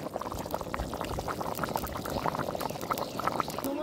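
Goat fat bubbling and sizzling in a pan with fried onion and chopped tomato for a jackfruit dish, a dense, steady crackle heard close and alone.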